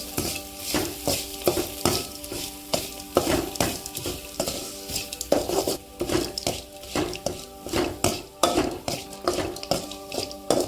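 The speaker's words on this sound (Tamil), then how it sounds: "தேங்காய் போட்டு கொஞ்ச நேரம் ஊட்டின போதும் ரொம்ப நேரம் ஊட்டக்கூடாது" Coconut is stirred and fried in a pan for coconut rice, with a spoon scraping the pan in rhythmic strokes over a continuous sizzle. The scraping and clatter are close and repeated, with no speech.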